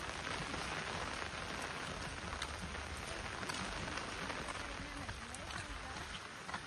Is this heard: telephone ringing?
no